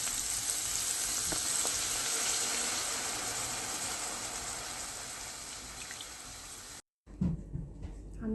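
Milk hits a hot flour roux in a pan for chicken piccata, giving a loud, steady, hissing sizzle that slowly softens, then cuts off abruptly before a few quieter clinks.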